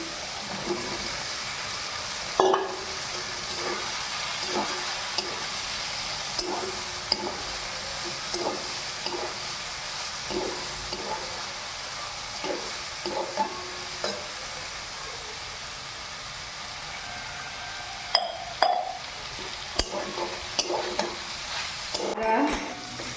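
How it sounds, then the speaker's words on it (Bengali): Soya chunks frying in a pan for a vegetarian soyabean rezala, with a continuous close sizzle and intermittent scraping stir strokes of a spatula against the pan, a few sharper knocks standing out. "একটু নাড়াচাড়া করে ওর মধ্যে সোয়াবিনটা দিয়ে দিচ্ছি।"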